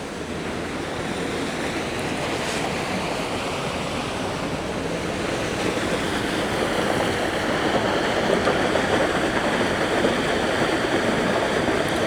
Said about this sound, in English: it's flowing a lot quicker now, the water, so filling up quicker